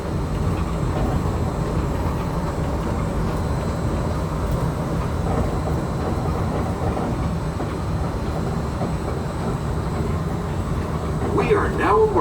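A Disneyland park train rolls toward Downtown Disney Station with a constant low rumble and faint rail clatter, steady throughout, with a voice audible in the background.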